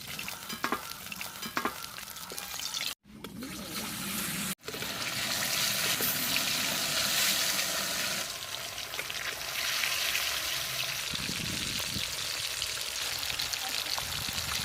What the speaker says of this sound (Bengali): মাছ আমি লাল করে ভেজে নিয়েছি, তুলে নেব। এই রেসিপিটার জন্য মাছ লাল করেই ভাজতে হবে।